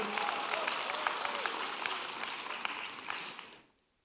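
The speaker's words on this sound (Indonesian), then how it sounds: "Tepuk tangan, gak apa-apa." A church congregation applauds in a steady, dense wash of clapping that holds for several seconds, then tapers off and fades to near silence.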